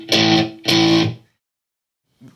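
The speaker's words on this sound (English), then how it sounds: "this is just basically going to be a little bit of a dirt guitar." Two sustained, gritty electric guitar chords with a fuzzy, overdriven edge ring out one after the other, dry with no reverb, then cut to silence before a faint low thump.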